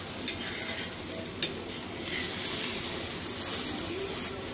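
A moong flour pancake sizzles steadily in a pan just after being flipped, a continuous close frying hiss with a couple of brief sharp ticks, no voices.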